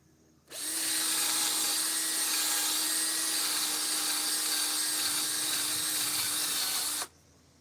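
Foggy plastic headlight lens being sanded with P500 sandpaper by a power tool, a steady loud whirring grind that starts abruptly, runs unbroken for about six seconds, then cuts off.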